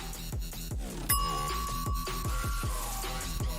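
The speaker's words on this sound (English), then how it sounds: "I Would Like a Bell." A bright bell tone rings out once as a sound effect over a music track with a repeating bass drop pulse, the tone sustaining clearly above the steady beat.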